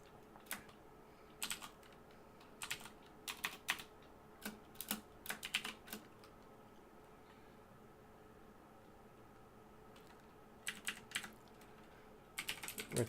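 Bursts of quick, light clicking on a computer keyboard come in short clusters separated by quiet pauses, faint and close over a soft background hiss.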